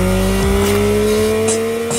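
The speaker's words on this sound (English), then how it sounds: "to let the new CP3 engine roar" Yamaha MT-09 motorcycle with its three-cylinder CP3 engine roars loudly and steadily, its pitch shifting through a brief rev change, heard alone without talk.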